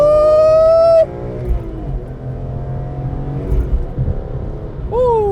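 A BMW E46 M3 engine in sport mode revs sharply. One loud climbing rev drops off into a low rumbling idle, then a second rev rises at the end.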